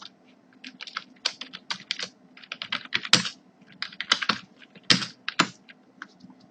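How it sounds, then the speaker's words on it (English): Close, brisk typing on a computer keyboard while entering HTML and CSS, irregular clusters of clicky keystrokes with short pauses, no talking. "so here I'm just going to type in."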